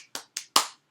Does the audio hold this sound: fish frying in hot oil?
no